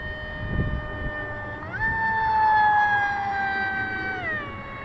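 An RC MiG-29 model jet with an NTM prop drive flies overhead, its harmonic-rich electric whine rising sharply in pitch, holding high for a couple of seconds, then dropping back down. Moderately loud, with no talking.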